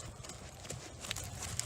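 Horse hooves clip-clop steadily on arena footing during a dressage centerline and left turn, a faint, regular rhythm of soft footfalls heard at a distance over low background noise.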